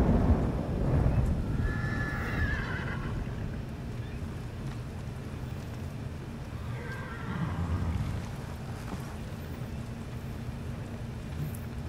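Two loud whinnying neighs from a horse in the Ghost of Tsushima video game, around two and seven seconds, over a steady low rumble of ambient game sound with no talking.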